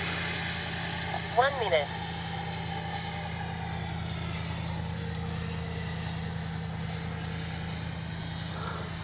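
An FMS Integral 80mm ducted-fan RC jet flies overhead with a thin high whine that drops in pitch and fades over a steady low drone, and a brief spoken remark comes early.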